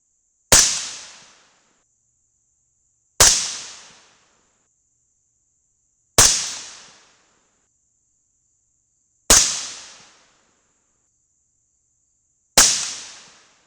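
Five sharp .223 rifle shots fired with CCI 450 primers crack out about three seconds apart. Each report is loud and abrupt, with a short ringing decay and silence between shots.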